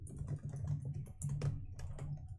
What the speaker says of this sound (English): Ferocious typing.